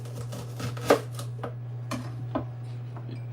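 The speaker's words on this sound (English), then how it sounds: "Cut up the onion them same way. I'm gonna use some yellow onion right now." Knife chopping yellow onion into medium slices on a cutting board, a series of close, sharp taps at an uneven pace over a steady low electrical hum.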